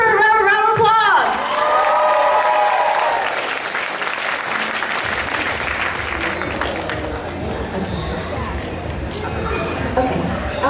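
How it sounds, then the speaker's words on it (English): A crowd at an anime convention costume contest applauds, steady dense clapping with scattered cheers lasting several seconds, while a voice talks over the opening moments. "Give her a round of applause"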